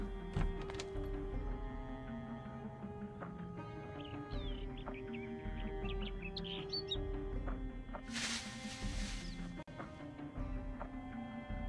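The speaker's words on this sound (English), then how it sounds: "Pretty birds." Birds chirping in the video game Project Zomboid: light tweets and calls over a soft ambient bed, with a brief noisy burst partway through, no talk.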